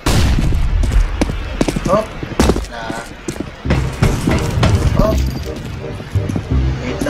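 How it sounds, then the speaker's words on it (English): Bursts of gunfire and a thumping flashbang grenade blast in the game CS:GO, loud and rapid, mixed with players talking over the action. "Deploying flashbang."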